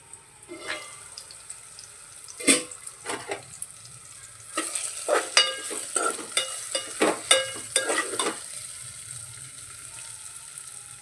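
Tomatoes and other masala ingredients for bitter gourd curry frying in a pan, a hissing sizzle punctuated by a run of rhythmic spatula scrapes and knocks, close and without talk.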